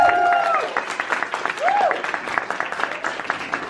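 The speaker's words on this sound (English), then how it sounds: "So give Christopher a massive round of applause." A crowd applauds a young speaker at a youth speaking event, with sustained clapping throughout and a few brief whistle-like tones rising over it early on.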